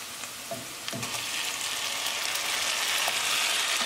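Tomatoes hit a pan of hot tadka with green chili, opening with a couple of soft plops before a loud, steady sizzle that builds and stays strong, no talking.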